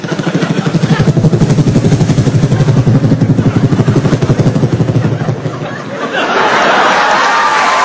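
A comedian imitates a helicopter with his voice, a loud, rapid rhythmic chopping pulse held for several seconds before it breaks off into crowd noise.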